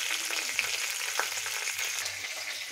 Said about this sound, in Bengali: দিয়েছি কারি পাতা, একটু নাড়িয়ে নেব